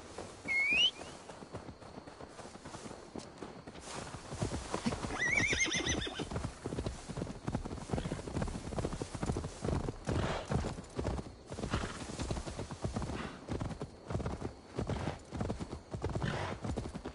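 Horse in Assassin's Creed Valhalla, with steady hoof clip-clops throughout and loud neighing whinnies near the start and again a few seconds in, over a busy background of game ambience.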